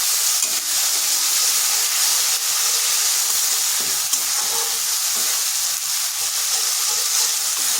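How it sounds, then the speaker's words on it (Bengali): Ginger garlic paste and puréed tomato sauté in a hot pan with a steady, close sizzle and frying hiss, stirred now and then, with no talk throughout. "এবার বেশ ভালোভাবে কষিয়ে নিচ্ছি।"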